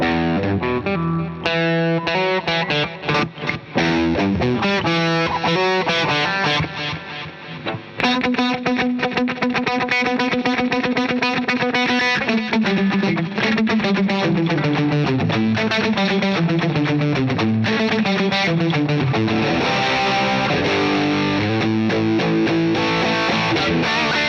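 A distorted 1980s-style electric guitar riff with a chorus-like effect plays loud and continuous, chugging chords giving way to a sliding, descending melodic line.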